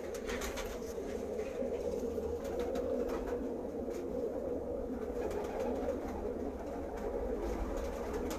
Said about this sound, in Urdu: یہ استاد حاجی محمد یوسف صاحب کے گھر کے بانکے اور فیروز پوری بریڈ کے کبوتر ہیں